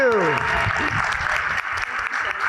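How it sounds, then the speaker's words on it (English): Audience applauding guests Shanta and Nona Hendryx at a New York performing arts conference plenary, a dense steady wash of clapping with a voice speaking over the start. "Let's give our guest a big round of applause"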